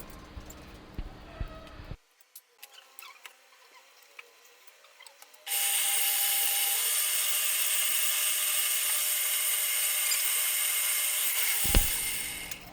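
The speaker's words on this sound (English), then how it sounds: "I also use a lot of older tools, like this drill press." Scattered mechanical clicks and handling noises, then an old drill press's loud steady motor whine runs for several seconds before cutting off abruptly.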